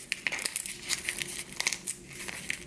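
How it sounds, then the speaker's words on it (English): Perforated stabilizer paper being torn away from stitching on tulle gives off a run of small, soft pops and crinkles at an uneven pace, close and quiet. "you should hear that like popping sound, because that's your perforated holes breaking from one another"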